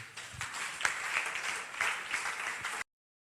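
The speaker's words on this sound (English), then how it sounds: "Clap your hands for the Lord." A church congregation claps for the Lord during a prophet's service, with a few seconds of uneven, loose clapping that ends abruptly.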